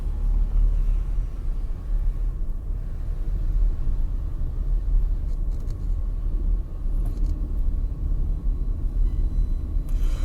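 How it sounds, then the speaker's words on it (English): Road traffic held up behind a garbage truck in Thailand makes a steady low rumble of idling and slowly moving vehicles, continuous and moderately loud from inside a car. "there's a garbage truck ahead of us"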